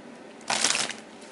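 A deck of tarot cards is shuffled once in a quick, crisp riffle lasting about half a second, alone in a quiet room.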